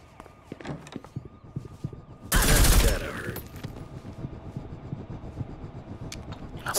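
Rifle gunfire in the video game Reservoir Dogs: a dense, loud burst of shots lasting about a second, with quieter clicks and scattered game sounds before and after.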